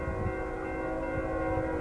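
A railroad crossing signal bell rings steadily at an activated crossing with the gates down, a continuous metallic clanging that holds at an even level throughout.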